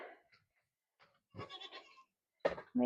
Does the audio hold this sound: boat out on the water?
no